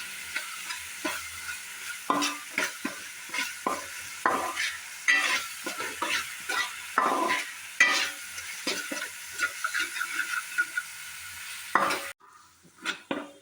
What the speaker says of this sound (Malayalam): ഒരു നാല് പച്ചമുളക് നെടുകെ കീറിയതാണ് അതുകൂടി ഇട്ട് കൊടുക്കുന്നത്